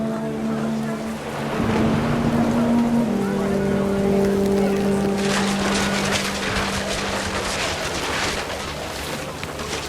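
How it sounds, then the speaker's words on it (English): Steady rain pouring down in the video game What Remains of Edith Finch, a continuous hiss beneath low sustained musical tones, growing denser and heavier partway through. "The rain came down in buckets then"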